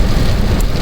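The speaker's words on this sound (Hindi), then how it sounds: "मुल्तान मोटरवे के ऊपर शदीद बारिश स्टार्ट हो गई।" Heavy rain on the Multan motorway, a dense, loud steady hiss of downpour with low rumbling road noise underneath and no voices.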